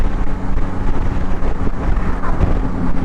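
A Tracer 9 GT motorcycle cruises in fifth gear, its steady engine drone heard close and loud under heavy wind buffeting against the microphone, with no voices.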